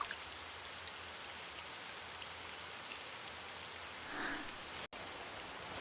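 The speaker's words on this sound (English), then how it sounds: "Outside, a light drizzle had begun to fall." Light drizzle falls on outdoor pavement as a steady, soft hiss of raindrops that continues evenly throughout, with no voices.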